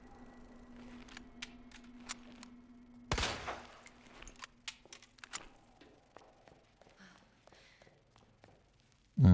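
A gun fires again and again in the Resident Evil 2 video game, a run of sharp, clicky shots at uneven intervals. One louder burst comes partway through, over a faint steady hum.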